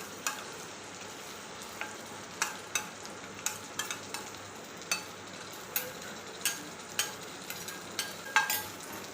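Masala paste stirred into onions browned in hot oil for a black chana curry: a soft, low sizzle under sharp, scattered scrapes and taps of the spoon against the pan, close by and with no talk.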